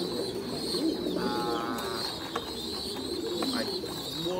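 Pigeons coo softly on a pigeon farm, low throaty calls repeating through the clip amid other bird chirps and a faint ambient background, with no clear speech.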